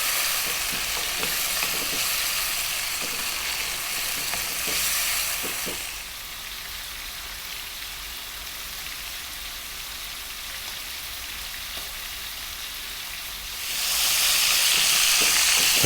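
Duck breast stir-frying in a pan over above-medium heat, a dense, rain-like sizzle that drops quieter midway and then surges loud again near the end. Close, with no one speaking.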